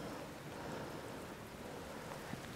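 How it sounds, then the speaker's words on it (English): Rain falls outdoors during an elk hunt, a soft, even wash of dense patter with a faint low rumble beneath, steady and distant-sounding with no voices. "But sure enough, the rain started to move in."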